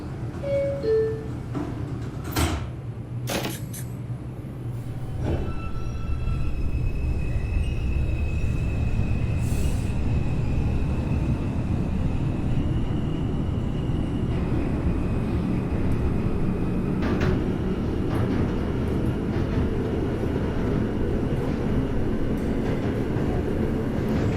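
An NYC Subway R142 train on the 5 line pulls away from a station in the OpenBVE simulator, with a steady rising motor and rumble that builds and holds loud, plus a few brief clicks and tones at the start.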